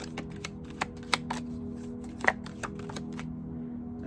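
A deck of oracle cards is shuffled by hand close to the mic, a quiet run of soft riffling flicks and taps with a few sharper snaps, with no talking.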